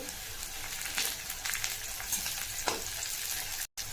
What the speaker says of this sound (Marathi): मिरची पण छान फ्राय झाली आहे यातच कढीपत्ता टाकायचा आहे